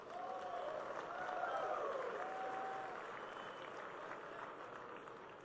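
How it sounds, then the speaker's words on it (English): Faint applause from an audience at an evening smart-home industry keynote swells and then fades gently, heard at a distance with some vocal sounds mixed in. "I really want to give them a round of applause for their contributions to the ecosystem"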